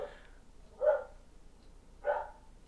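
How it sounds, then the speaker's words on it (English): A dog barks outside twice, about a second apart, distant and muffled, with no talk in between. "The dog outside seems to be going crazy."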